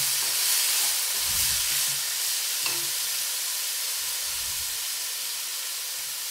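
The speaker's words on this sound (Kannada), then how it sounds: "ಒಗ್ಗರಣೆ ಜೊತೆಗೆ ಮಧ್ಯೆ ಮಧ್ಯೆ ಮಿಕ್ಸ್ ಮಾಡ್ಕೊಳ್ತಾ ಕಟ್ ಮಾಡಿರುವ ಎಲ್ಲ ದಿಂಡನ್ನು ಇದಕ್ಕೆ ಸೇರಿಸ್ಕೊಳ್ತಾರೆ" Chopped banana stem dropped into a hot tempering sizzles under a continuous hiss, with a few soft low thuds and scraping stirs breaking through the frying.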